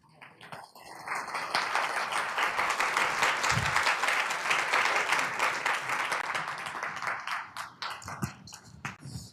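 An audience at a Juneteenth celebration event gives sustained applause, a dense roar of clapping that swells quickly and holds for several seconds before thinning into scattered claps, with a few voices rising near the end.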